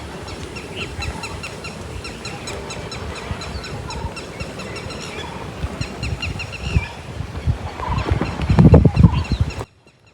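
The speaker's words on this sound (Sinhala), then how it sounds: "ඇහෙන්නෙම කුරුල්ලන්ගේ හඬ විතරයි." Birds chirp steadily in the distance over a low outdoor rumble at a village Buddhist temple in Sri Lanka, with a louder burst of noise near the end before it cuts off.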